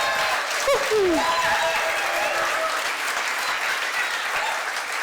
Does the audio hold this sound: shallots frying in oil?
no